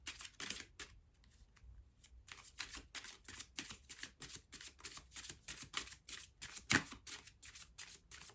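Tarot cards are shuffled in quick, crisp riffles and flicks, dozens of close, soft snaps in a steady rhythm with a brief pause and one sharper click near the end, no voice.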